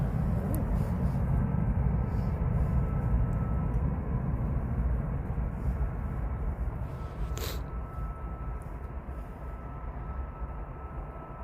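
An EasyJet Airbus A320 departing toward Barcelona makes a steady, loud low-frequency jet roar that slowly fades as it moves away, with a brief sharp noise partway through.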